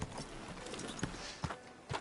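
Horse hooves clip-clop slowly in a video game, a few soft, evenly spaced footfalls at moderate distance, fairly quiet against faint background ambience.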